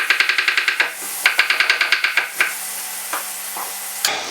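Thin-sliced potatoes, about a millimetre thick, sizzling in a pan while a utensil stirs them in quick rhythmic bursts of sharp clacks and scrapes against the metal, loud and close.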